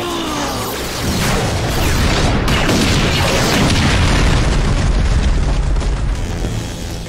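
The Gigadrone blows up in a Power Rangers Beast Morphers fight scene: a loud booming blast breaks out after a brief quiet moment, then rolls on as a sustained, crackling rumble of debris.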